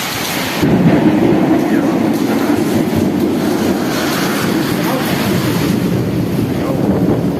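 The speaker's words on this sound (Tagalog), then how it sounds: "malakas ang kidlat, saka kulog." A low, continuous rumble of thunder rolls beneath a dense hiss of heavy rain in Thuwal, Saudi Arabia, loud and close, sustained throughout without a break.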